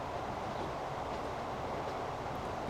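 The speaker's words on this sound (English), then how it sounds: "when we've got the passenger trains coming through the middle, I mean, that's the passenger train at the moment." Passenger trains rolling through in the Transport Fever game, a steady broad rumble of railcars on track that holds evenly loud throughout, with no talk over it.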